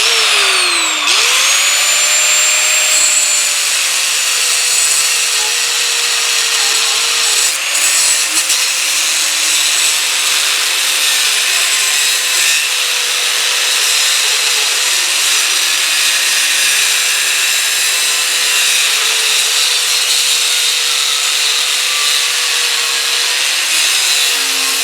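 Metal pieces being cut for a lawn care trailer repair, a steady harsh grinding whine running continuously and loudly for the whole stretch without pause.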